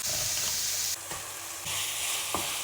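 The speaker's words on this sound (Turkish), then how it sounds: "Tavaya 300 gram kıyma ekliyorum." Three hundred grams of ground beef fry in a wok pan with a loud, continuous hiss, broken by a few sharp clinks and scrapes as the meat is stirred.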